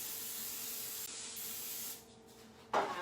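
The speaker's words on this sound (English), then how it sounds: "I am going to spray two pans." A steady hiss of aerosol cooking spray onto baking pans runs for about two seconds, cuts off, then a short louder burst of spraying follows near the end.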